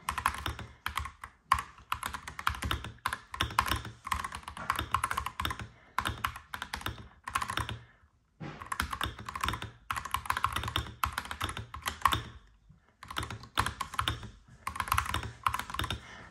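Steady mechanical keystrokes clatter on an AKKO 5075B Plus keyboard, fast continuous typing bursts broken by a few short pauses, close and alone with no talk.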